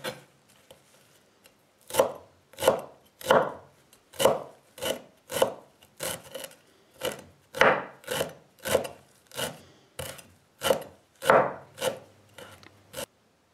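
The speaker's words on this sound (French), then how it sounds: "lavé soigneusement les feuilles de roquette bâtarde, je vais les hacher menu" A knife chops wall rocket leaves finely on a board: about twenty crisp, evenly spaced strokes, each with a short scraping rasp, close and clear, with no talking.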